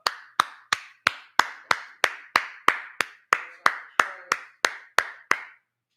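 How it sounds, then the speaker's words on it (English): About seventeen even, crisp claps land at a steady quick rhythm during a religious class, close and clear, then stop. "Clap it up."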